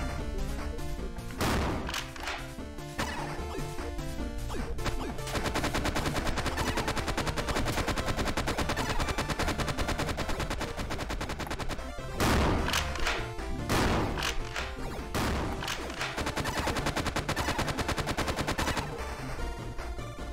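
Rapid bursts of video game gunfire, some machine-gun-like, fill the clip almost without a break, loud and dense, with a few heavier crashing shots standing out.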